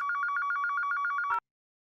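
A telephone rings with a rapid electronic trill, one continuous ring of pulsing tones that stops abruptly after about a second and a half as the call is picked up.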